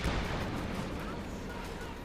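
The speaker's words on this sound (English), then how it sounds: "White Phosphorus Barrage, again," A White Phosphorus Barrage in the strategy game Company of Heroes 2 sends a steady rumble of artillery, dense booming and crackling impacts blending into a continuous wash of noise throughout.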